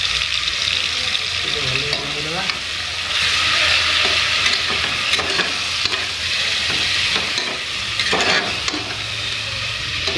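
Ginger garlic paste fries in a pan for chicken biryani, a loud steady sizzle broken by scraping stirs and clatters of a spoon against the metal, close up throughout.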